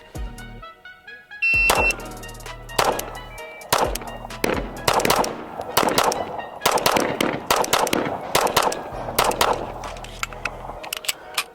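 A SIG Sauer P365 pistol fires in rapid strings of sharp, loud shots, bursts of quick close reports separated by short pauses, with a faint electronic beep early on.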